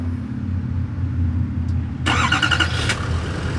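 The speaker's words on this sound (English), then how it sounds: "here's the key, and I want to go ahead and start it up." A 2015 Chevrolet Silverado 2500HD High Country heavy-duty truck starts up: a steady idle-like background hum, then a sudden crank and catch about two seconds in, settling into a close, loud running engine.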